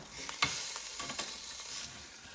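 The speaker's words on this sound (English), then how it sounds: "now it's time to turn it over and do the same again on the other side" A ribeye steak sizzles in an air fryer basket as it is turned over, a faint steady hiss broken by a few brief clicks and scrapes of handling, with no talking.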